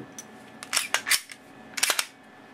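A Glock 17 pistol handled as its magazine is removed, giving a few sharp metallic clicks and clacks in two short clusters, close and fairly quiet, with no talking.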